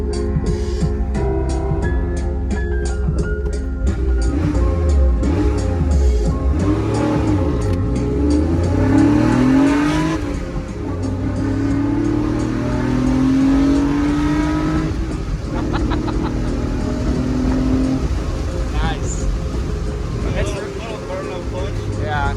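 A Porsche 911 engine revs hard under acceleration, rising in pitch through the gears with shifts and climbing sweeps, loud and close from inside the car, while people talk over it at times.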